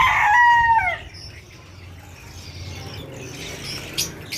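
An Aseel hen's call rings out at the start, one bright harmonic squawk or crow lasting about a second, followed by quiet low rumbling and faint chirps.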